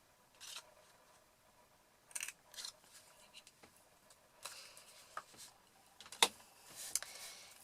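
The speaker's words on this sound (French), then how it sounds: "vous allez pouvoir tout à fait arrondir les angles de vos petits panneaux avec la perforatrice arrière de l'enveloppe punchboard" Sharp clicks and snaps of a paper punchboard rounding the corners of small card panels for a painted-wood-effect greeting card, several separate crisp punches spaced irregularly over quiet background, with one loud snap near the end.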